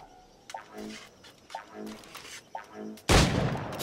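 Sharp gunshots in Assassin's Creed: Black Flag crack out about once a second, three in a row, then a louder, sustained blast of fire erupts at the end.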